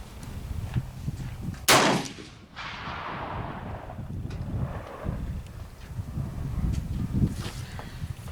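A single sharp, loud rifle shot from a scoped K31 cracks close by and is followed by a long, rolling echo. Steady wind noise runs under it.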